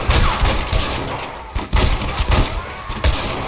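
Gunfire in the Western video game Red Dead Redemption, loud bursts and thuds in a chaotic firefight, with several sharp shots and impacts around the middle and end of the stretch.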